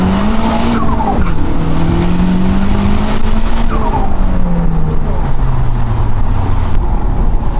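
Tuned Nissan Skyline R34 GT-R engine roaring loudly under hard acceleration, pitch climbing and falling through the revs with a constant rushing drone and faint tire squeal, continuous and close.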